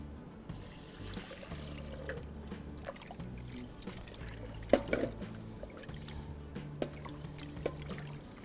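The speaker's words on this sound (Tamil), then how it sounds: "இதை போட்டு முதல்ல உனக்கு நல்லா வாஷ் பண்ணிடலாம்." Rice and moong dal are rinsed in a kitchen sink, with steady running water from the tap, splashing and swirling, and a few sharp clinks of grains and vessel close by, with no talk.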